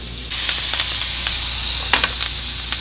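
Steak frying in butter in a hot pan gives a loud, steady sizzle with scattered crackles and pops, close up and running without a break.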